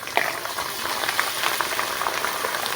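Bhungla snacks frying in hot oil, a steady dense sizzle and bubbling that holds evenly throughout with small crackling pops, close and fairly loud, no voices.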